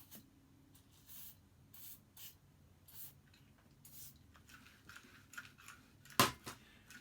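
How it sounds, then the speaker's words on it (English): Aerosol lubricant sprayed into the holes of a Toro mower's Kohler engine, coming as several short, quiet hissing bursts with pauses, then a sharper louder burst near the end. "We're going to spray it right inside these holes here."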